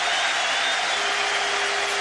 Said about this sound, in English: A thunderous ovation around the ground